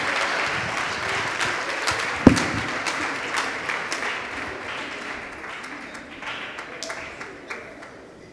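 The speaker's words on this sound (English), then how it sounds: "Let's give the Lord a hand clap." Applause from an audience at a university chapel service, a steady wash of many hands clapping with a few sharper individual claps, slowly fading over several seconds.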